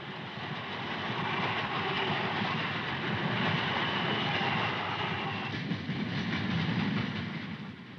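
Passenger trains crowded with spectators heading to the 1956 Melbourne Olympics opening day, giving a steady, loud rumble of rolling railway cars with faint rhythmic clatter throughout, no voices.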